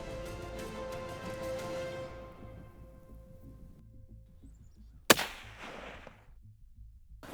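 A single sharp rifle shot fired at a whitetail buck on a South Dakota hunt cracks out loudly near the end, followed by a brief echoing tail over a low, rain-like outdoor hiss.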